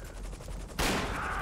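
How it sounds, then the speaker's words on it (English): A gun goes off in Grand Theft Auto V, a sudden loud broadband blast about halfway through that rings on under steady game background noise, with no talk. "Did your gun fire on its own?"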